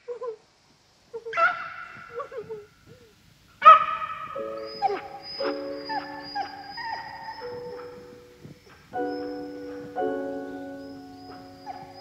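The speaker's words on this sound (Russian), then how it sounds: "Сцены на живодерне собачьей." Dogs at a dog pound in a Kira Muratova film scene yelp, whimper and bark in separate plaintive bursts, some sustained and wavering, fairly close with quiet gaps between and no talking.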